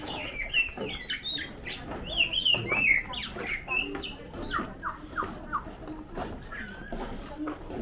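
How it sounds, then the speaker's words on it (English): Starlings chirp and whistle in a busy, overlapping chorus near a river on a village cruise in East Kalimantan, close and lively, with faint background noise beneath. "Those are minor birds, are they? Starling."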